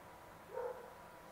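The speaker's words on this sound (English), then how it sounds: "my dog once again is barking" A dog barks once, a brief and fairly soft bark heard over a steady low background hum.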